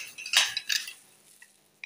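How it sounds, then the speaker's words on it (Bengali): A metal pressure cooker lid with a loose rubber gasket is handled, giving a few sharp metallic clinks and knocks close by, then near silence broken by one last faint clink. "কড়াই না, এই যে হচ্ছে আমার প্রেসার কুকারে"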